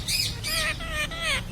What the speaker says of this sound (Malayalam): പഞ്ചവർണ്ണ തത്ത